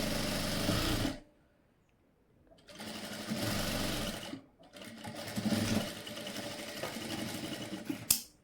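A sewing machine stitches a blouse's main fabric side seam in three close, steady bursts, separated by brief pauses.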